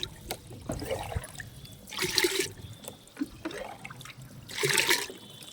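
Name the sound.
water trickling as a container is filled for watering plants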